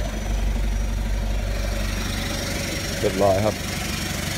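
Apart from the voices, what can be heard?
remapped Isuzu All New D-Max 3.0 engine idling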